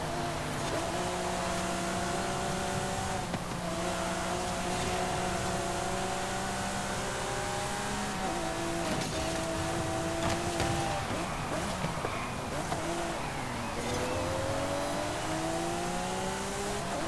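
A Lamborghini Centenario engine in Forza Horizon 5 revs hard and continuously, climbing through gears with shifts and a loud, close, sustained race-car roar.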